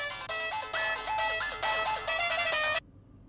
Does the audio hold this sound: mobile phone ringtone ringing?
yes